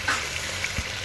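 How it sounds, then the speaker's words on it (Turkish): Halved onions and chicken fry in melted butter in a pan, a close continuous crackling sizzle with a faint stirring scrape, short and without talk. "soğanlar, tereyağım eriyip soğanların biraz pembeleşene kadar şöyle biraz tavuk tereyağıyla beraber biraz kavrulsun"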